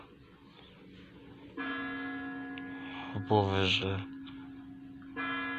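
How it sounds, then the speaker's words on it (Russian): Clock tower chimes strike at New Year with bright, ringing bell tones that start partway through and hold. A person speaks briefly over the chimes, and the ringing returns near the end. "Бьют куранты."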